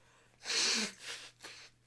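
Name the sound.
person blowing their nose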